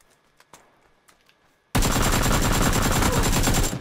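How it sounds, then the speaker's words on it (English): Video game gunfire: a few faint isolated shots, then a sudden loud, continuous burst of rapid automatic fire at close range to the end. "Oh, I'm getting shot."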